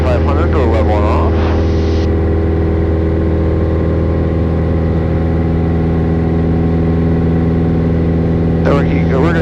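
A small airplane engine held steady in level cruise below 2,500 RPM, a loud continuous drone with steady harmonic tones filling the whole stretch, with a person talking over it at the start and again near the end.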